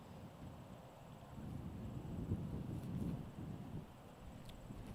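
Low, steady wind rumble buffeting the microphone at a disc golf course, rising slightly in the middle, with no voices.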